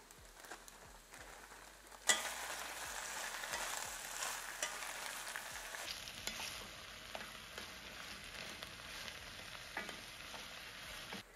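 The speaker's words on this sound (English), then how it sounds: "we're gonna go ahead and add in our zucchini as well as our tomatoes. And we're gonna cook these for about another 5 minutes" Zucchini, tomatoes and onions fry in a hot pan for calabacitas, a steady close sizzle with stirring scrapes and a sharp clatter early on, continuing unbroken without talk.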